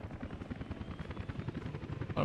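A helicopter delivering a bulldozer in the video game Workers & Resources: Soviet Republic thumps with a fast, steady rotor chop, close and even throughout, ending in a brief louder rush.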